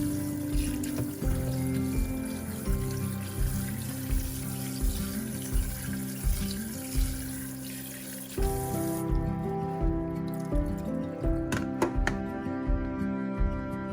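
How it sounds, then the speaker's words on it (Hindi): Cooked pasta drained and rinsed under cold running tap water, a continuous close splashing flow, with a rhythmic tonal hum that shifts pitch partway through. "पानी निकालने के बाद में उसको 2 या 3 बार ठंडे पानी से वॉश करना चाहिए"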